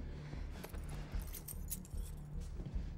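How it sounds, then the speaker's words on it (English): Keys jangle as they are handed over in a tense rescue scene from the 2017 action film Submerged, a bright metallic clinking that shakes in several quick bursts over a low rumbling background. "Give me the keys."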